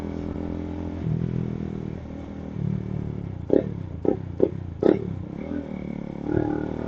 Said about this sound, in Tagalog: Naputok ang muffler natin.